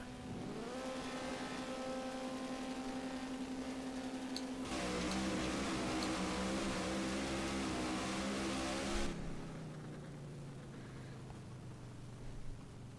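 A video game race car engine screams at high revs in a drag race, rising in pitch through gear changes, loud and continuous with a brief tire squeal.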